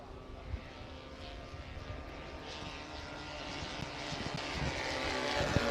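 A steel-framed light competition aircraft with plywood-skinned wings and a 100 horsepower engine drones overhead at a wing show, a steady engine hum that grows gradually louder from a distance.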